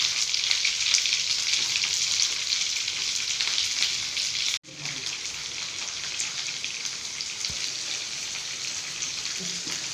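Ivy gourd sautéing in hot oil makes a dense, steady hiss-like sizzle, close and continuous, briefly broken midway by a short drop and a soft knock before the frying resumes.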